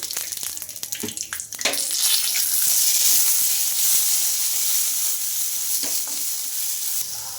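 Chopped garlic and ginger hitting hot oil: a few sharp spits and crackles at first, then a loud, steady close-up sizzle that keeps going with no talk.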